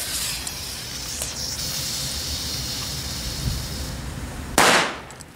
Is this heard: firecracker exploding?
yes